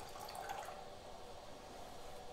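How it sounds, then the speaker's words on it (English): Water poured from a coffee carafe into a Chemex coffeemaker, a faint, brief splashing trickle that fades into quiet room tone. "So I'm just going to pour this in here to show you where this comes up to on the CHEMEX."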